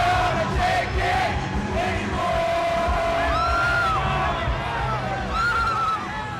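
A crowd at a Donald Trump rally cheers and whoops, a dense roar with shrill individual yells rising above it throughout, steady and loud.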